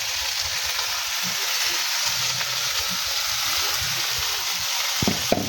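Steady, even sizzle of squid frying in a hot pan, continuous and close, with a few small clatters near the end and no talk.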